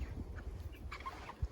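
Six-week-old meat chickens cluck softly and sporadically nearby, a faint brief scatter of low calls.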